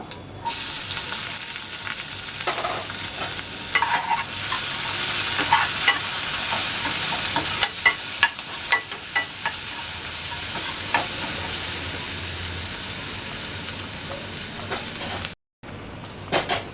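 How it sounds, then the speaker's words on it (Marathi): Onion hits hot garlic tempering for Marathi varan and fries with a loud, steady hiss of sizzling oil close by, broken by occasional stirring clicks and a brief gap near the end. "लसूण छान आपली लाल व्हायला लागली आता आपण याच्यात घालूया कांदा"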